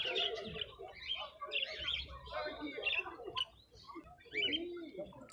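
Budgerigars and songbirds chirp and twitter continuously at a market stall in Kropotkin, a busy overlapping chorus of close, fairly quiet calls with faint voices in the background.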